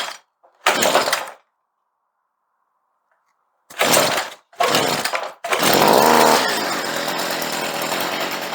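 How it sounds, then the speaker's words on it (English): A Stihl 55R string trimmer that has sat unused for a long time is pulled twice with sharp bursts, sputters, then catches and settles into a loud, steady two-stroke drone close by. "There she goes. Now this hadn't run in a long time"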